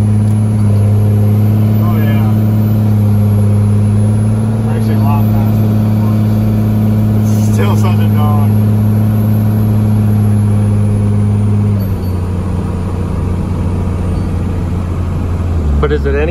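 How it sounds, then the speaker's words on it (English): A Cummins 12V diesel truck engine drones steadily while cruising, with a constant low rumble and a turbo whine, loud and close inside the cab. People talk over it. "Oh, you don't like the turbo noise?"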